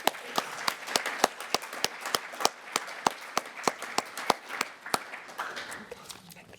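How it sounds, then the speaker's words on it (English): Steady, evenly spaced clapping from a small audience at a dissertation awards presentation, each clap sharp and distinct, loosening and fading toward the end. "So a huge clap for Valeria"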